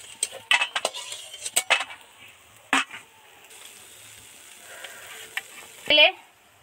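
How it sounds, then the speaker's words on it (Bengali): Dried chillies, a bay leaf and panch phoron hit hot oil in a pan, giving a soft steady sizzle broken by sharp clinks and scrapes of a spoon stirring against the metal. "তেলের মধ্যে দুটো শুকনো লঙ্কা দু টুকরো করে, একটা তেজপাতা, একটু পাঁচফোড়ন দিয়ে দিলাম।"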